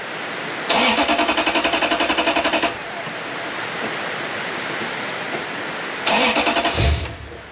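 A Lexus LS430 starter cranks in two attempts after an ECU swap, first a steady two-second whirring churn, then a shorter second crank, with the engine failing to catch and quiet idle-less hiss in between.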